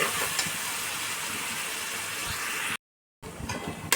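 Chopped and pasted garlic fries in a pan over lowered heat, giving a steady close hiss and sizzle that cuts out briefly before resuming.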